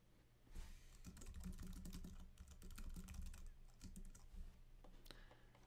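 Steady typing on a computer keyboard while annotating text on a shared desktop, a dense run of close, quick clicky keystrokes over a low background hum for the whole stretch.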